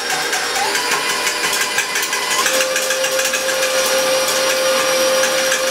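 Electric stand mixer fitted with a whisk attachment whipping butter for eggnog cake frosting, a loud steady motor whine that climbs in pitch as the speed is gradually turned up.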